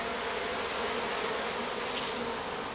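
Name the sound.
honeybee swarm buzzing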